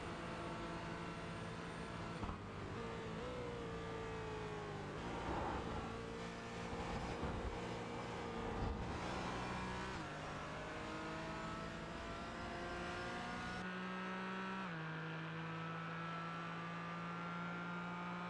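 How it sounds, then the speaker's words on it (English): Race car engine in a racing video game, set on the Daytona road course, revving loud and steady as it shifts down through the gears and then climbs back up, with pitch drops and rises at each change. "Cool to hear the way he was working his way down through the gears and back up through the gears"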